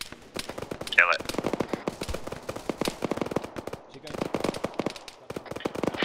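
Rapid bursts of automatic and single-shot gunfire in the Arma 3 military game, dense and continuous, with voices talking over the shooting throughout.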